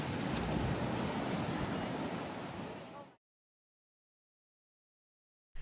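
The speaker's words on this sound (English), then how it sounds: "It's so windy." Strong wind at a North Shore surfing beach roars and buffets the microphone for about three seconds, with surf noise mixed in, then cuts abruptly to silence.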